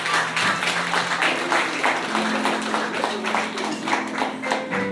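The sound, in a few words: applause for the Lord in a church service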